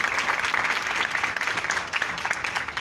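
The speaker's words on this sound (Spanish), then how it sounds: "Un aplauso, por favor." Audience applause at a political event presenting Green Party candidates, a dense, lively patter of many hands clapping, loud and continuous.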